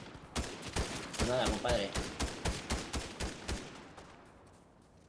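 Rapid video game gunfire rattles out as a steady string of sharp, evenly spaced shots aimed at the player, with a voice speaking briefly over the middle of the volley before the shots fade.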